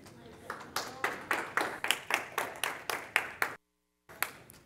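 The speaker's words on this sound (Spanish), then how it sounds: "Un fuerte aplauso." An audience claps for a speaker at a Python and Rust programming talk: about a dozen crisp, evenly spaced claps in a steady rhythm, a brief silence, then one more clap.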